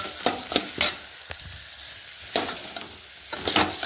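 Okra is tossed with turmeric and salt in a pan, giving a low sizzle punctuated by several sharp metal spatula scrapes and clacks in irregular bursts, close and distinct, with no voices.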